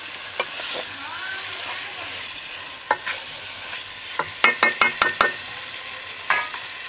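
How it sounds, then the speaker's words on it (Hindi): Chicken for a village-style biryani fries and is stirred in a pot: a steady sizzling hiss runs throughout, broken by a rapid cluster of sharp metallic spoon clinks against the pan near the middle. "आधे घंटे के लिए हम इसको अच्छी तरह चिकन को भून लेंगे।"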